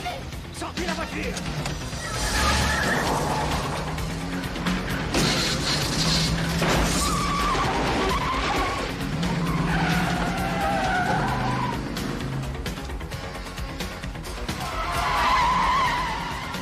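Car tires skid and squeal during a chase in a French action film, with engine roar, impacts and shouted dialogue layered over a dense, loud mix throughout.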